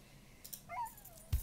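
A dog in the video game DreamLand: Final Solution gives a brief, high, falling whimper, faint and short, followed by a soft thump.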